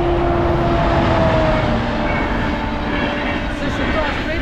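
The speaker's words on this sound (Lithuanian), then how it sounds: "Šitas tai gal ne, bet tokie traukiniai važiuoja 200 kmh." A train rushes past near a trackside route on a bicycle trip toward Flensburg, giving a loud, steady roaring rumble that holds throughout.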